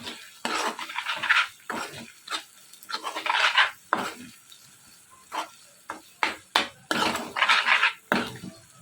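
Spoon or spatula scraping and clinking in a pan while mushroom curry is stirred with chilli powder, garam masala and coriander-cumin powder, in repeated bursts of metallic scraping with short pauses, fairly close.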